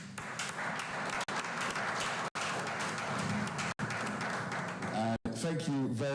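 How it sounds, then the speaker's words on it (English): Audience applause at a report launch event for a research report, a steady dense clapping that runs throughout with voices mixed in and brief dropouts, ending as speech emerges. "Let's give a round of applause again."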